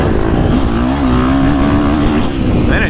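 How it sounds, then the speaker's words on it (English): A 2024 KTM 450 Factory Edition or Husqvarna FC350 dirt bike engine lugs at low revs in third gear, a loud close rumbling drone that rises slightly before a short rev near the end. "listen to this thing lug. I'm in third."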